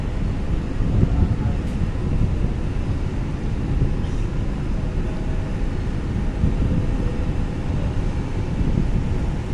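Strong wind above 50 knots at Bakauheni harbour at night buffets the microphone in a continuous low roar and rumble, steady throughout with no distinct other sounds.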